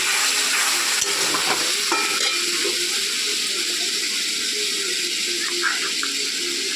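Spices frying in hot oil with a splash of water for a Sunday chicken dish give a loud, continuous sizzle with a rough, watery hiss that holds steady throughout.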